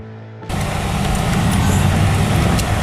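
A Volga car's engine, under tow, suddenly bursts into life after a moment of near silence and keeps running as a loud, rough, steady rumble close by.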